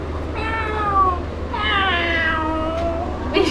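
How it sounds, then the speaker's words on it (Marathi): A house cat meowing loudly and close, two long drawn-out wailing meows followed by a short chirp at the end, with no talk over it. "मांजर विवळते बटाटे वड्यासाठी."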